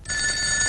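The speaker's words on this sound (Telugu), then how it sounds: "ఆ ఫోన్ నాది. వచ్చే ఫోన్ నాకు వస్తుంది." A telephone bell rings in a single short, bright, steady burst, close and clear, with no talking over it.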